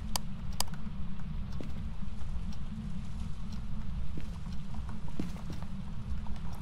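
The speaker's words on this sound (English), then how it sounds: "I hear you stomping around." Rapid, steady thudding footsteps stomp continuously in the foreground in the video game map Tanglewood, heavy and low with occasional sharper clicks, no talking.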